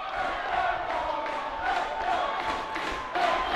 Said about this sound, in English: Crowd coming alive too, passion in the crowd